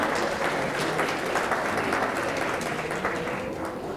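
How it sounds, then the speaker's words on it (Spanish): Audience at an international public health conference applauds a doctor after her talk, a dense, steady wash of many hands clapping that holds for the whole stretch, close and fairly loud with no voices over it. "Un aplauso, por favor."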